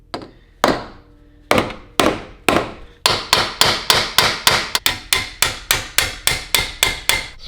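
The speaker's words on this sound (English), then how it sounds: "So we're gonna try a little bit of brute force with the rubber mallet." A rubber mallet pounds on a Ferrari 458 exhaust, starting with a few spaced, heavy thuds and then settling into a rapid, regular series of loud, close blows.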